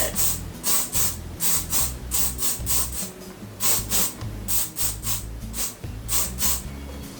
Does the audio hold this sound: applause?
no